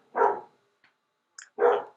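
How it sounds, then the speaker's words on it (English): A dog barks twice, two loud, close woofs about a second and a half apart, with faint small noises in the quiet gap between them. "Sorry, my dog's barking."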